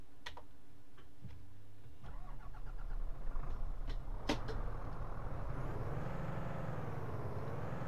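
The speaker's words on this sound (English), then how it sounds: "So, the Iveco truck. Yeah, so let's see what happens when you start it." An Iveco truck engine in Euro Truck Simulator 2 cranks and starts after a few ticking clicks, then settles into a steady low idle with a wavering hum.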